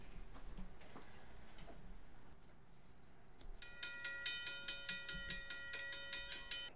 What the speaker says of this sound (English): Does that freight train come through at 5 a.m. every morning?